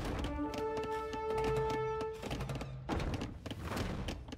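Catapult shots in the Age of Empires 2 video game, a few dull thunks and thuds landing among battle sounds, with a sustained tone fading out midway.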